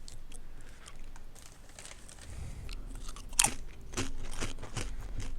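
Doritos chips crunched while eating, close and quiet, with a few sharp bites and crackly chewing bursts spaced irregularly over a faint background.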